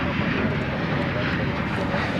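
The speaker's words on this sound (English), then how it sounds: "American Eagle Flight 6400 bringing up the rear off to Flagstaff, Arizona. That's a CRJ 701 ER." An American Eagle CRJ-701ER regional jet departs DFW Airport at night for Flagstaff, Arizona, heard as a steady, dense engine roar with wind-like rumble, close and continuous for the short stretch.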